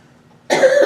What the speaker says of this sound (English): We all heard you cough